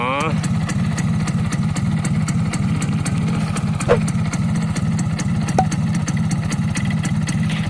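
A 20-year-old Yamaha F1ZR motorcycle engine idles roughly with a steady low putter, running continuously under a voice heard faintly in the background.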